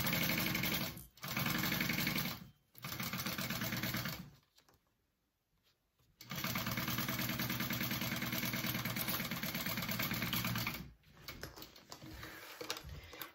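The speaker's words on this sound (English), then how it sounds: "you want to sew that down at a 3/8 inch seam allowance" A sewing machine stitching a 3/8 inch seam on bag lining: several bursts of steady fast mechanical whirring, broken by brief stops and one longer pause, close and alone.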